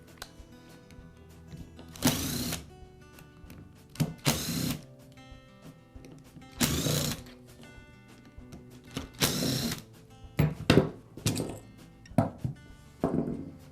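Screws being removed from the gearbox housing of a Makita angle grinder with a power screwdriver, several short whirring bursts separated by pauses, close and fairly quiet.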